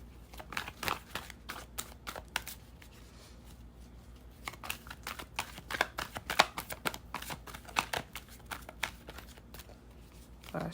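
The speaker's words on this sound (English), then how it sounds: "This deck is so thick, it's so hard to shuffle." Repeated riffling and slapping of a thick card deck being shuffled, brisk bursts with short pauses, close and fairly quiet.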